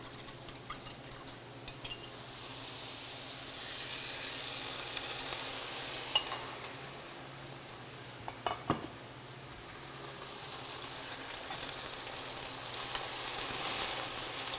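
Stir-fried green beans and sauce going into a hot pan, with a loud, steady hiss of sizzling that swells and fades, broken by a few clinks and scrapes of a utensil.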